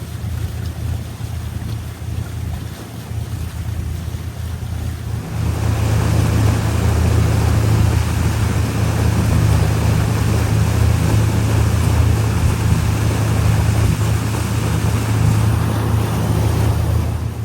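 A motorboat crosses Lake Puckaway toward the village of Marquette on the Fox River, its steady engine drone joined midway by louder rushing wind and water spray that continue unbroken without talk.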